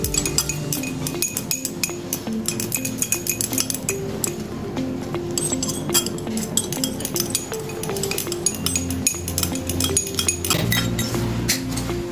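A milky homemade soap mixture stirred in a glass container, giving rapid repeated clinks of a utensil against glass, loud and close, continuing steadily with no talking.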